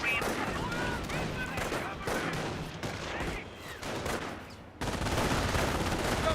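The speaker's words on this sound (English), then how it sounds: "Squad taking fire!" Dense, continuous gunfire and rattling bursts from a Company of Heroes battle, a steady wash of combat noise with a brief dip before it swells again.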